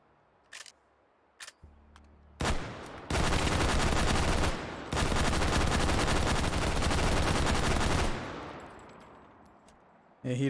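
Loud, rapid automatic gunfire from a heavy-recoil gun in the VR shooter H3VR, a few single shots first, then a long sustained burst broken by one short pause, with a trailing echo.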